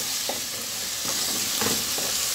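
Chopped tomato hits browned onion in a hot pan, a dense, steady hiss of frying with faint stirring scrapes, close and continuous throughout.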